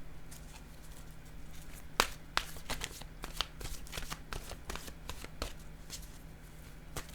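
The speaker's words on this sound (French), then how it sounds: "je vais piger maintenant une carte de mon oracle de" Oracle cards being shuffled by hand, a steady run of crisp riffling flicks and patters with a few sharper snaps, close and fairly quiet with no talking.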